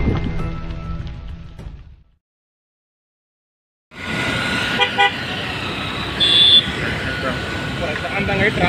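A heavy traffic jam at Srisailam: car horns toot over engine and road noise while people talk, broken by a couple of seconds of silence before the jam noise returns louder.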